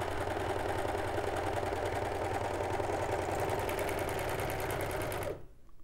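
A sewing machine stitching a dress, running at a fast steady rhythmic whir for about five seconds before stopping abruptly, close and alone.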